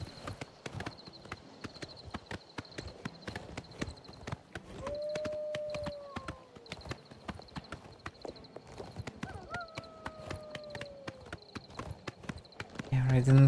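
Rhythmic clip-clop of horse hooves at a steady riding gait in the game Oblivion Remastered, with a brief whinny midway, close and continuous under occasional talk.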